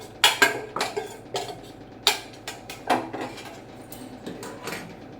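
A spoon scrapes ghee-fried ingredients from a metal pan into a bowl while prasadam is being cooked at home, producing a series of close, sharp metallic clinks and taps in an irregular rhythm, with no talking.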